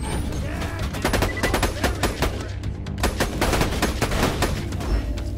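Rapid, sustained gunfire from a sniper rifle in the video game Borderlands 2, a dense run of loud, closely spaced shots with no pause, plus a few brief slight dips in the volley.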